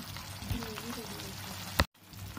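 Spice tempering (popu) frying in hot oil for jackfruit-shred curry (panasa pottu kura), a steady close sizzle with a sharp crackle near the end before it cuts out briefly.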